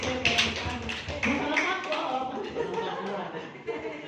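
Participants at an Indonesian gathering clap together in a steady patter, mixed with overlapping chatter and some chuckling close by.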